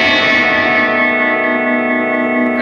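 A sustained Fender Jaguar electric guitar chord rings out drenched in echo and effects, slowly decaying over a couple of seconds with no voices.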